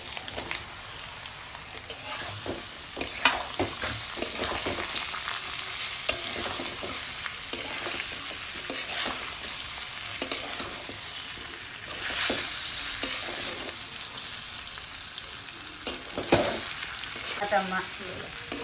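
Continuous crackling sizzle of patra (colocasia leaf rolls) tempered in hot oil with sesame seeds and green chillies, with occasional stirring scrapes, steady and close throughout.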